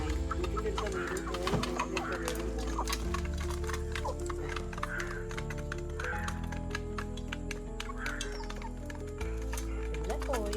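A small flock of six or seven hens, including white ones, clucks repeatedly near a house, close and steady through the scene, with other faint yard noises and talk underneath.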